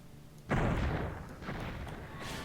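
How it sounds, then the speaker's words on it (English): Green energy bolts fire at imps in the game Heretic: a sharp, loud burst lands first, then two softer shots follow at about one-second intervals, each trailing into a short rumbling decay. "I'm shooting green energy bolts at little imps"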